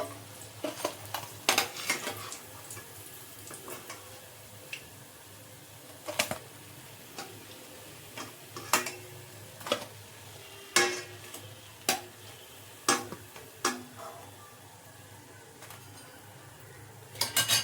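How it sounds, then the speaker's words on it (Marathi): Batata vadas deep frying in hot oil for Mumbai-style vada pav, a steady low sizzle broken by frequent clinks and scrapes of a metal utensil against the pan. "अशाच पद्धतीने आपण सगळे वडे तळून घेणार आहोत"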